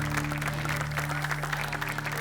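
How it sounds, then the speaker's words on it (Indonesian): A group claps continuously in a dense, even patter for a couple of seconds, with a steady hum underneath. "Tepuk tangan dulu yuk."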